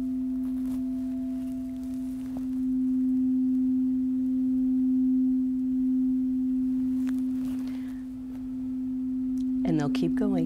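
A large 432 Hz chakra-tuned root singing bowl rings with a steady, pure sustained tone that holds for about ten seconds, a second strike briefly adding brighter overtones near the end.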